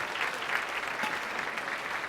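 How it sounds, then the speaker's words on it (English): Guests at a United Way luncheon applaud, a steady, moderately loud wash of many hands clapping throughout. "Let's give that group a round of applause."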